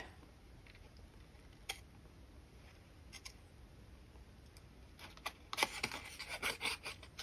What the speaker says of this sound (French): là je vais couper un petit peu plus